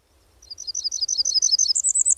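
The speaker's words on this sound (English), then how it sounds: "Lots of people can't hear Blackburnian warbler if they have high range hearing loss." A Blackburnian warbler sings a very high, thin series of rapid notes that climbs to a higher-pitched ending, a short clear song over a quiet background.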